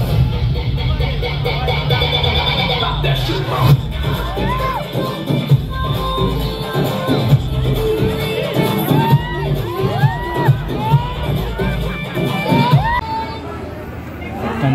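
A large, noisy crowd packed into a mall opening to see actress Akshara Singh, with steady babble, shouts and occasional whoops and cheers rising throughout.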